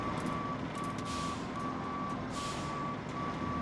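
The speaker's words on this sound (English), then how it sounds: "I'm actually going to back the truck up." Semi truck reversing in the Roadcraft video game, its backup alarm sounding a steady run of evenly spaced beeps over a continuous low engine rumble.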